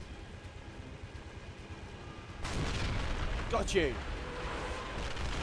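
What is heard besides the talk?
mortar fire in the video game Men of War: Assault Squad 2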